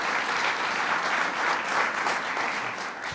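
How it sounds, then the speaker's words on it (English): Steady applause from an audience honoring Lieutenant Governor Bob Duffy at a pension reform bill signing, dense and continuous clapping throughout with no pauses. "let's give a round of applause to Lieutenant Governor Bob Duffy"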